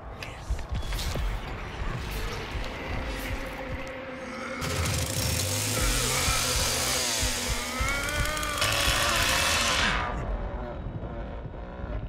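In the Texas Chainsaw Massacre video game, a chainsaw revs and buzzes loudly amid mechanical rattling and engine-like drone, rising in intensity midway before cutting off near the end.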